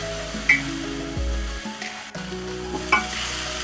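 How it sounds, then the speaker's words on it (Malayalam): Garlic and ginger sauté in a hot pan, a steady close sizzle broken by a few stirring scrapes and clinks of the spoon, with no talk over it. "ഒരു പച്ചമണം മാറുന്ന വരെ ഒന്ന് വഴറ്റാം."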